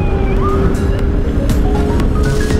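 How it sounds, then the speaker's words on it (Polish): Ambulance siren wailing on the road from behind a moving vehicle, a loud rising-and-falling tone over heavy engine and road rumble. "Tak, karetka."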